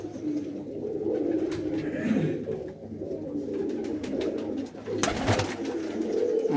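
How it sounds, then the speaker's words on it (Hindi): Pigeons coo on a rooftop, low rolling murmurs repeating continuously and close, with a few sharp flutters or knocks midway. "बिल्कुल फिट हैं कबूतर।"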